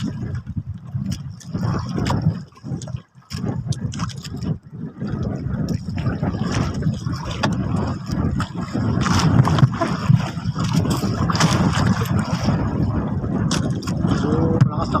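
Strong wind buffets a small boat out at sea as waves slap and churn around the hull, a steady rough roar with engine-like rumble underneath and occasional voices in the background.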